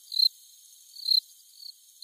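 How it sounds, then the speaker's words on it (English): A cricket chirps in three short, bright trilled bursts about a second apart, clear and close, with nothing else heard. "Cricket."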